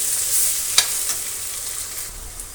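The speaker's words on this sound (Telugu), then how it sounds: "అల్లం వెల్లుల్లి పేస్ట్ వేసాను. పచ్చివాసన పోయే వరకు బాగా వేసుకోవాలన్నమాట." Ginger garlic paste fries in a pan with a steady, bright sizzle while a utensil stirs it, giving a few soft scraping knocks, close and continuous without talking.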